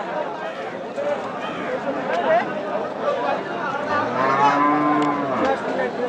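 Cattle at a busy Nilphamari livestock market, with one loud, drawn-out moo rising near the end over a steady background of crowd chatter and people talking.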